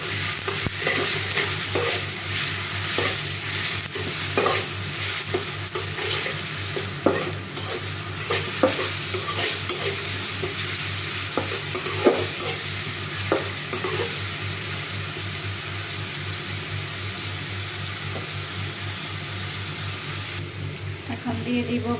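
About a spoonful of garlic fries in a pan for vegetable khichuri, a continuous sizzle punctuated by repeated close scrapes and clicks of a spoon stirring against the pan.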